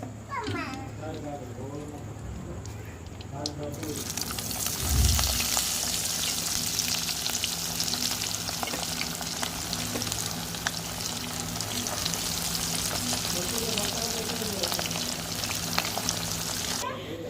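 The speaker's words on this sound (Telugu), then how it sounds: "అదే ఆయిల్లో ఇవి కూడా మొత్తం బాగా ఫ్రై చేసేసుకోవాలి" Chicken pakodi pieces drop into hot oil and erupt into a loud, continuous frying hiss that holds steady to the end, following a stretch of people talking nearby.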